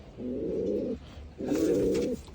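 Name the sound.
pigeons cooing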